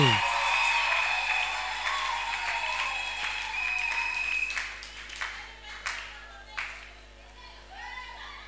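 A church congregation bursts into loud, dense applause that gradually thins into scattered claps and fades, with voices mixed in.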